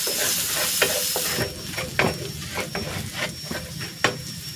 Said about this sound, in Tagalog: Gigisa ko na tong bawang.